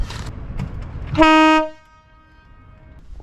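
A loud, sustained blast of a wooden boat's deep horn, about half a second long, ringing out after some background clatter and fading.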